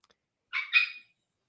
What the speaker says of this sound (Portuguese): São duas cachorras.